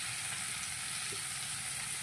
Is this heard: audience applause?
no